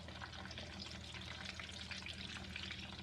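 Chicken pieces pan frying in hot oil give a steady, dense crackling sizzle that holds even and unbroken throughout, close by with no talking.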